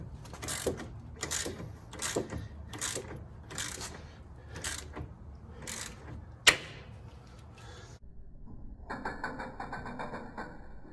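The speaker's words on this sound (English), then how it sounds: "so we're just gonna ratchet this down and hope this pops out." A ratchet wrench turning down a 19 mm nut on an outer tie rod end, with a quick run of regular clicking strokes, a sharp metallic snap midway, then a brighter, steadier ratcheting whir, close and alone.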